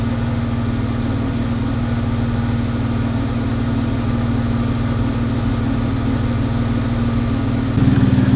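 A Jeep Wrangler engine idles steadily while warming up, producing a constant low rumble that continues without pause. Near the end the engine note steps up slightly and gets a bit louder.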